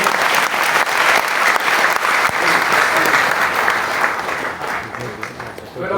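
Enthusiastic audience applause at a product promotion event in Mumbai, loud and continuous clapping from a large crowd that stays full for several seconds before thinning slightly toward the end.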